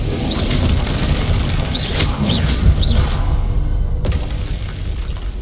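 In the video game Hogwarts Legacy, an Expelliarmus spell impact lands as a heavy low boom with whooshing, magical swishes. It ends in a sharp crack before fading.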